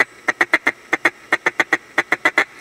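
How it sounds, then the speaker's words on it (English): A handheld duck call blows a feed call: about fourteen quick, sharp nasal notes in tight clusters of two to four, loud and close, with no voices. "if it's a feed call, it's quick 10s"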